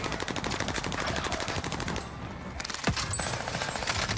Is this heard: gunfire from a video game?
yes